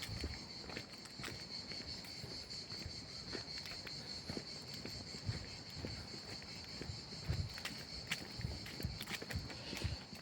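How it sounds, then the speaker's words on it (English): Insects buzz in a continuous high drone across a nature reserve near a muddy riverside trail, faint and distant, while footsteps crunch and scuff close by at irregular intervals. "And the cicadas."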